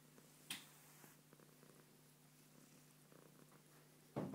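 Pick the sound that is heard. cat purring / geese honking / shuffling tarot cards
cat purring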